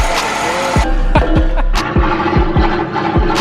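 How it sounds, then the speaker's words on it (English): A single-cab pickup truck engine with its exhaust cut off revs in sharp, rhythmic bursts, raw and throaty, popping repeatedly close by. "Cut the exhaust off the single cab, because I really want to hear what it sounds like."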